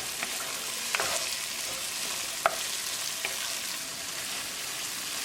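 Lobster curry with tomatoes and potatoes is stirred in a pot just after the lid comes off, giving a steady bubbling sizzle with a few sharp utensil knocks against the pot.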